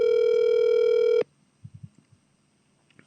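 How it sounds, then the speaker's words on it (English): Outgoing phone call ring-back tone played loud through a smartphone speaker: one steady, near, harmonic-rich tone holding for just over a second, then cutting off to quiet with a few faint low thumps. "It's ringing."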